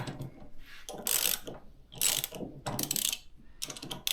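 A hand ratchet snugs connecting rod bolts during an engine rebuild, giving several bursts of quick clicking strokes with brief pauses between, close up with no talking.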